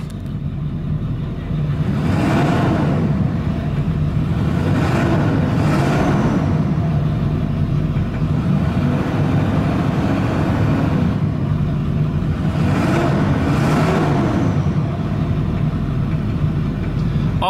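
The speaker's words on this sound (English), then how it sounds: "Awesome sounding engine." A 2003 Ford F350 Super Duty pickup with a 7.3 Powerstroke diesel idles with a deep rumble, revving up several times in repeated swells before settling back down.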